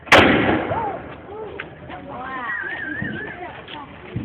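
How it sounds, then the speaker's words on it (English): A matchlock musket fires with one loud, close boom at the start and a short echoing tail, followed by voices and cheering at an outdoor demonstration. "Alright, so that's a matchlock musket."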